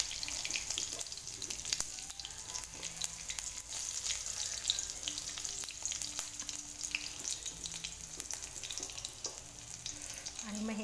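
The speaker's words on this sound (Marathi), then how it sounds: "हे छान तडतड झाल्यावर काढा।" Green chilies sizzle and crackle steadily in a hot mustard-seed, cumin and sesame tempering for a rava khandvi, with a continuous frying hiss and scattered sharp pops throughout, no talking.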